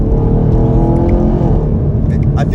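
2021 Camaro LT1 V8 accelerating, a loud, close engine roar rising in pitch through the gears with a strong low-end drone, and a voice talking over it.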